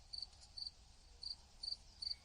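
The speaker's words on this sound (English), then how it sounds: "Crickets." Cricket chirping sound effect played back in short bursts, five quick trills spaced roughly half a second apart over a faint steady background, with no talking.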